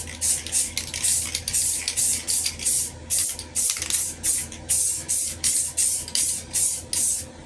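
Repeated short bursts of aerosol spray hissing in a steady rhythm, about a dozen quick sprays close by over a low background hum, spraying a rusty floor board of an AMC Gremlin.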